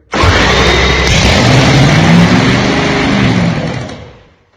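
A supercharged nitro-fuelled early Hemi engine fires up for the first time, a loud, sustained rough roar that holds steady for several seconds before dying away.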